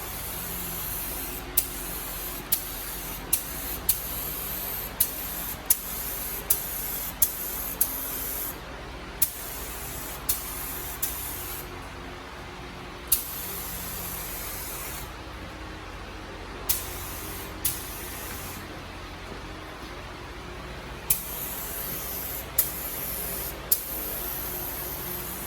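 Long continuous hiss of a spray gun laying a second coat of paint on a Ford 8.8 rear end for a Shelby Cobra replica, broken by brief pauses and short clicks, steady and close.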